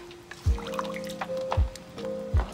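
Seasoned Spanish rice with water is stirred in a hot pot, giving wet squishing and sloshing strokes. Three louder pushes stand out against a faint tonal hum, and small liquid drips fall between them.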